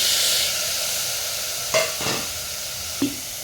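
Mixed legumes, drumstick pods and potato stirred into sizzling masala in a pan, a steady fry hiss with three distinct scraping stirs of the spoon, close and clear.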